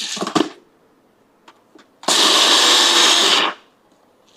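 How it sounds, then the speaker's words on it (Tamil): A kitchen mixer grinder whirs at home as it blends peanuts into peanut butter, a loud, harsh burst of about a second and a half that cuts off abruptly, with brief clicks and handling noises before it. "மிக்சி ஆன் பண்ண போகிறோம்"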